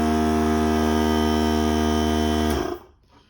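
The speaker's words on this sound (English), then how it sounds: "I turn the compressor off because we're not going to need a lot of pressure" A shop air compressor runs with a loud, steady motor drone and humming harmonics, then shuts off abruptly near the end and falls into near silence.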